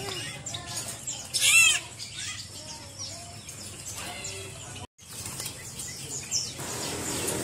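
Several bright, warbling bird calls from a Papuan magpie-robin ring out in short bursts over a steady low background hum, with a louder burst early on and quieter chirps after.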